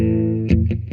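An electric guitar rings out a sustained, heavily distorted chord, then three quick chugged hits follow in a short, loud burst during the chorus of a song.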